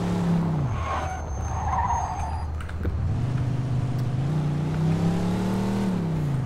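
Car in Mafia 2 skids and squeals its tires under a droning engine note that dips and rises, then settles into steady driving with the engine pitch climbing and falling.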